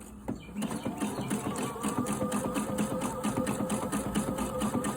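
Sewing machine stitching delicate underwear fabric runs in a steady, rapid mechanical patter, close and fairly quiet, starting after a brief click and continuing evenly without pause or voices.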